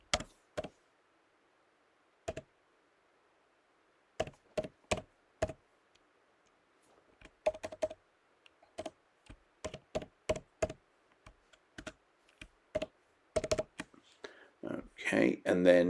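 Sparse, close clicks on a computer keyboard while entering text, in short irregular bursts with pauses, then a soft voice begins at the end.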